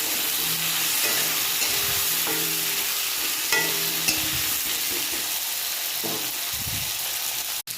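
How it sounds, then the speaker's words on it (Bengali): Cut potatoes fry in a covered pan with panch phoron and green chillies, giving a steady close sizzle and hiss, with occasional clinks and bumps of the pan and lid. "কেটে রাখা আলুগুলি ভেজে ভাজবো আর কি আলুগুলি।"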